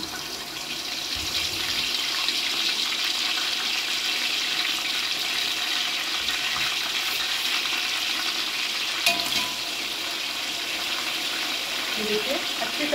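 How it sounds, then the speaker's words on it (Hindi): Washed mutton pieces fry in a pan for mutton korma, producing a loud, steady, watery sizzle that continues unbroken, with a brief clatter partway through. "ये ऐड कर रही हूँ गोश्त और इसको फ्राई करूँगी कुछ देर"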